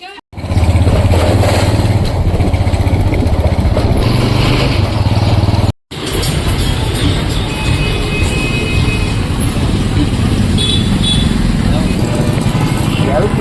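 A car is driven through a village road with a steady, close engine drone and road rumble, a brief cut midway, and a voice talking over it throughout.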